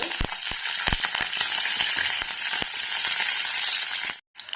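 Dried red chillies, coriander and curry leaves crackle and sizzle in hot oil for raw mango pulihora, a close, busy frying hiss dotted with sharp pops, cutting off briefly near the end.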